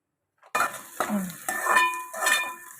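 Onions stirred in a pan while frying toward golden brown for a farm chicken curry: a few distinct scraping and clinking strokes of a utensil against the pan, close and fairly loud, with a faint sizzle underneath and no talking.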